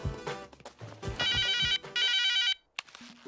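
A telephone ringtone rings out in repeated bursts, loud and close, a jangly electronic trill that cuts off abruptly before a short quiet gap and a brief low tone at the end.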